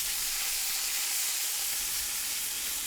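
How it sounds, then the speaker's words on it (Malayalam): Green chilli, ginger and garlic sautéing in a pan with salt for an Afghani paneer masala curry, giving a steady, even sizzle and hiss that runs unbroken throughout with no voices. "ഇത്രയും ഇട്ടതിന് ശേഷം നന്നായി അതൊന്ന് വഴറ്റി കൊടുക്കാം."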